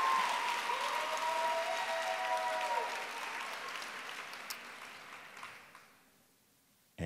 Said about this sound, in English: Let's have one more round of applause for all of tonight's contestants.